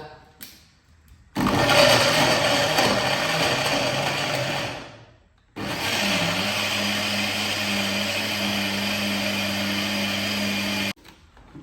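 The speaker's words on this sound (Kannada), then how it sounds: "ಮುಚ್ಚಳ ಮಿಕ್ಸಿ ಗ್ರೈಂಡ್ ಮಾಡ್ಬೇಕ" A mixer grinder runs with its lid on, a loud steady whirring roar in two long bursts of about four and five seconds, separated by a short pause.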